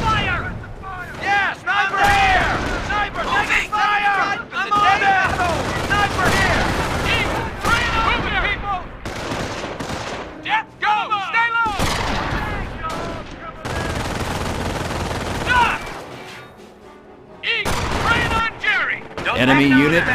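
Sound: gunfire and artillery in the video game Company of Heroes

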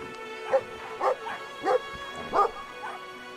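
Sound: dog barking in the video game Brothers: A Tale of Two Sons

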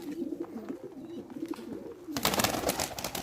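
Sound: birds cooing

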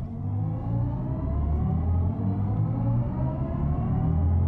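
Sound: BMW i7 electric car accelerating with launch control

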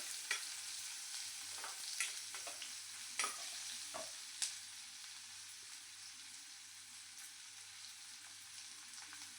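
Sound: onion frying with garlic in pan

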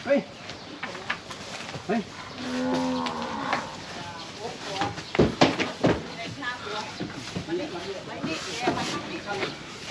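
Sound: Charolais cattle mooing during loading

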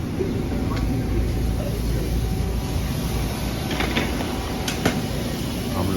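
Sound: train at Jamaica station, New York

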